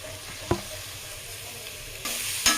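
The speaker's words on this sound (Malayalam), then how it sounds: "നല്ലപോലെ വഴറ്റി കൊടുക്കാം." Sliced onions with crushed ginger, garlic, green chilli and ground spice sauté in a pan for a chickpea biryani, giving a soft, steady sizzle with a couple of sharp spatula scrapes and clicks, close up and without voices.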